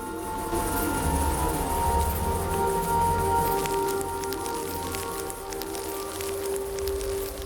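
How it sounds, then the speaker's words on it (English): Rain falls steadily in the dark outdoor opening of the Oknytt adventure game, a continuous soft patter mixed with a sustained tonal ambient drone. "tiny drops of rain began to fall from the dark sky"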